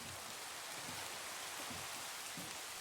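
Rain falling in the video game Minecraft, a steady, even hiss of dense rainfall that continues without breaks, fairly quiet and with no voices over it.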